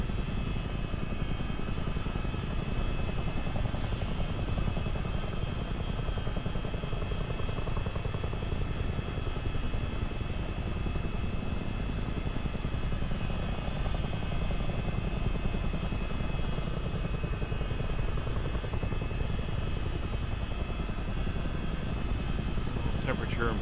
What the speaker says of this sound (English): they're all standing outside pointing up at the helicopter going by